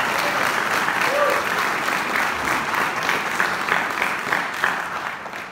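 Church congregation applauding for the Lord during a sermon on faith and healing, a steady sustained wash of many hands clapping at moderate distance, with a faint voice briefly audible underneath.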